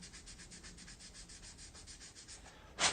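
Rapid, rhythmic back-and-forth scratching of sandpaper on wood, close and soft, ending with a brief louder scrape.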